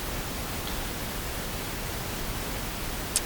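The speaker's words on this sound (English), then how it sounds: "So this is the pink noise by itself." Pink noise test signal plays by itself as a steady, even hiss with no variation, used for guitar EQ work, with a faint tick near the end.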